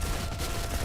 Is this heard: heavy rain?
no